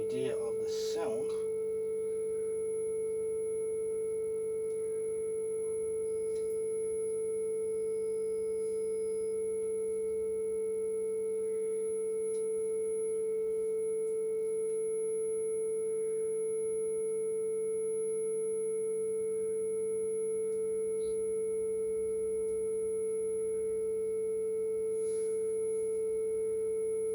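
Pye CTL58F colour television with no video input gives off a steady, pure electronic tone that holds unchanged throughout, with faint background hum and brief clicks near the start.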